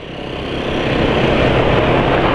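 A motorcycle engine running at steady idle close by, a loud continuous rough drone that swells slightly at first and then holds even, with no voices.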